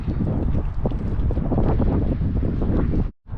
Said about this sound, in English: As you can see now, the wind is still blowing out of the north